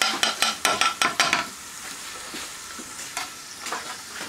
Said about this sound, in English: We're just gonna fry off 15 to 20 to taste.